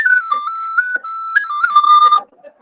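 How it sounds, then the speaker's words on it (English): A bright Irish penny whistle plays a short melody, sustained notes stepping up and down before stopping abruptly. "or the Irish penny whistle."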